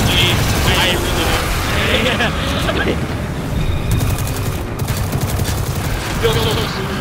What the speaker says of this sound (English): I really like this SMG. I really do.